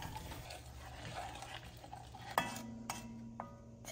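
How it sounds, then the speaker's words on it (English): Fruit and sugar heating in a pot for jam, stirred with a utensil: quiet, steady scraping with a faint simmer, broken by a sharp clink of utensil on pot partway through. "Continue to stir and let the mixture heat up."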